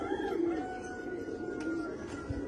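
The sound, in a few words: pigeons cooing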